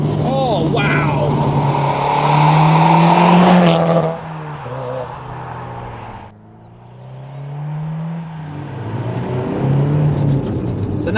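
A Subaru Impreza WRX STi Spec C Type RA widetrack driving hard, its turbocharged engine revving loud and close, pitch rising under acceleration, then dropping off as it lifts and rebuilds, with someone talking over it.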